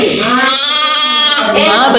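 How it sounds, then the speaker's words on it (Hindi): A young lamb in a farm cage lets out a loud, close, quavering bleat that wavers in pitch and trails off, with a second shorter cry at the end. "ये रहे छोटे से मेमने बच्चे"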